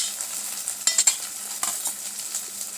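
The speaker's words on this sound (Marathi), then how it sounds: "कांदा आपल्याला लालसर भाजून घ्यायचा आहे." Onions fry in a pan toward a reddish brown, giving a steady close sizzle broken by a few sharp stirring scrapes and clinks from a utensil, with no talking.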